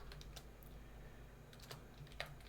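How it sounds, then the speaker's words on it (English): Someone types a password on a computer keyboard, a few quiet, close key clicks spaced irregularly over a low room hum. "I can go ahead and type in password."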